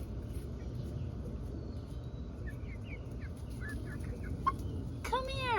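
Backyard garden chickens cluck softly, a few short calls close by over low background rumble, ending with a sharper, louder squawk.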